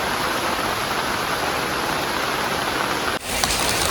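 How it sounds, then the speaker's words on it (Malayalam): Steady, heavy rain hisses continuously, broad and even, with a brief dip and shift in tone near the end. "ഇറങ്ങാൻ നേരത്തെ നല്ല മഴ കേട്ടോ"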